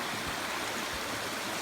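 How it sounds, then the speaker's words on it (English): A river stream flows down a hillside along the Appalachian Trail, producing a constant, fairly loud broadband rush of water with no voices. "river that's coming down the hill."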